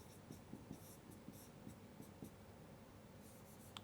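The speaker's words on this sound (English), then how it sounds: "I should just write it a little bit here." Marker or chalk scratching across a board during a semiconductor devices lecture on carrier transport, heard as quiet, steady strokes in a rhythmic series with no voice over them.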